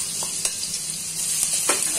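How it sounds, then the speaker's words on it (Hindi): Cumin seeds and garlic frying in hot oil in a wok, giving a steady close sizzle with a few soft stirring scrapes over about two seconds. "अब हम तेल को गर्म होने देंगे और उसके बाद 1 चम्मच जीरा डालेंगे और लहसुन"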